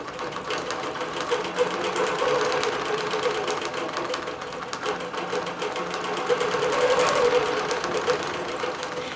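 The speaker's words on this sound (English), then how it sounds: "So it's quilting Aloha on a green batik lap quilt." A computerized quilting machine stitches a green batik lap quilt, producing a steady, fast mechanical hum and rapid needle rattle that runs continuously and fairly loud, with no talking.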